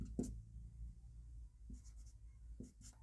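Chalk-like scratches mark a board during a Class 10 Hindi maths lesson on heights and distances, heard as a few short, faint strokes separated by quiet pauses.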